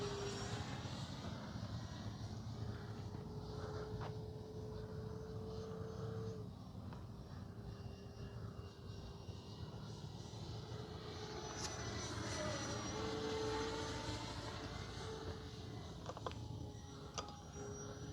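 A Durafly T-28 RC model airplane on a Turnigy 2200 4S battery flies in gusty crosswind, its steady motor drone rising and falling in pitch as it passes, with wind noise throughout.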